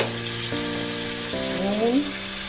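Ginger-garlic paste and turmeric hitting hot oil in a frying pan, giving a steady close hiss of sizzling with faint tonal background tones over it.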